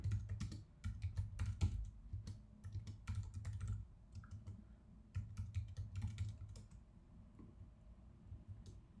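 Rapid, uneven clatter of keys on a computer keyboard while code is typed, close and clear, in quick bursts separated by short pauses, with a low steady hum underneath.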